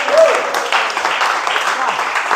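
A small group of people in a devotional gathering gives a round of applause, a steady wash of clapping that starts with a brief vocal sound and continues evenly.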